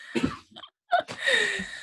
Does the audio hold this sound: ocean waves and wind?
no